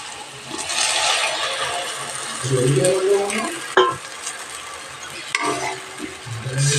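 Gram flour soaking water is poured into a hot pan of spiced, softened ingredients for a besan curry, setting off a loud sizzle and bubbling that rises and falls, with two sharp metallic clinks of a utensil against the pan.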